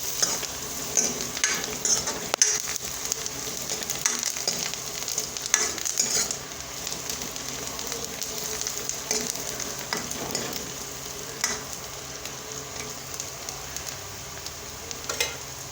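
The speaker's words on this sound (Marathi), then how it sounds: "हे मिक्स करून घेऊ" Steady sizzling and repeated stirring scrapes from a pan where a tempering of peanuts, turmeric, coriander and onion is being mixed for a quick puffed-rice breakfast snack. Moderately loud and continuous, with no voices.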